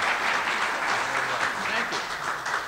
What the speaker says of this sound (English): Let's give Chris Payne another big round of applause.